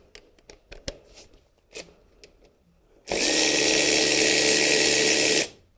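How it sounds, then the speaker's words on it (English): A ratchet on a short extension drives out a 12 mm bolt in the engine bay of a Nissan Skyline R32 sedan. A few light clicks and taps come first, then a loud, steady mechanical whir lasting about two and a half seconds. "I'm going to use my extremely short extension here, the shortest one I have, to get this bolt out."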